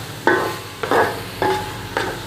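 Gajar ka halwa made with carrots, khoya and milk is stirred in a pan, four distinct scraping strokes at a steady rhythm over a soft background sizzle, close and clear with no talking.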